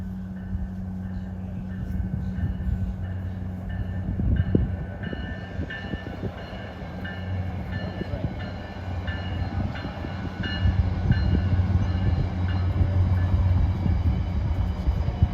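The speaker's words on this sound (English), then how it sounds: "About to pass over the Rappahannock River is Virginia Railway Express 311" Virginia Railway Express commuter train 311 rumbles across the Rappahannock River bridge at Fredericksburg, a steady low rolling roar with wheel clatter and sustained tonal hums that grows louder toward the end, with a faint voice underneath.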